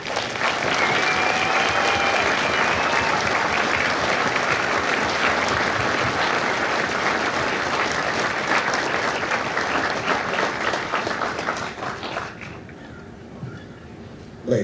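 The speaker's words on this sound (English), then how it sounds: "please give a very special round of applause to the family members of the servicemen and women who proudly defended our great country." Sustained loud applause from a large crowd at a Marine Corps Recruit Depot San Diego recruit graduation ceremony, steady clapping for about twelve seconds before it fades out.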